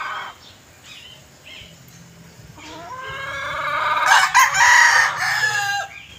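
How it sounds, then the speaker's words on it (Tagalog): Hens clucking and a rooster crowing in a small backyard chicken coop; soft scattered clucks build into a loud, close crow with layered calls near the end, no talk. "Ayan mga inahin ko"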